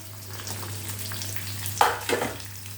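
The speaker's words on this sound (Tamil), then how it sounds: "இதை கொஞ்சம் வதக்கிப்போம்." Cumin, fennel, pepper and a coconut piece sauté gently in a pan with a soft, steady sizzle, broken by a couple of louder stirring scrapes near the end.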